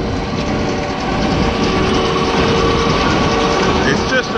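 Big baler machine running, a dense continuous mechanical clatter and rumble with gear-like rattling, loud and steady throughout, with no speech over it.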